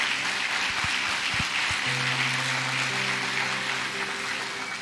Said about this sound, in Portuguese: Queria que a igreja recebesse ele com um aplauso ao Senhor Jesus pela vida dele